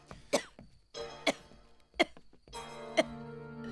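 Several harsh coughs in a row, spaced about a second apart, close and fairly clear with no speech.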